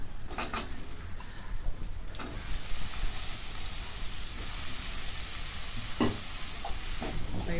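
Bitter gourd sautés with turmeric in a pan, giving a dense continuous hiss and sizzle with occasional metallic stirring clinks, close and steady with no voices.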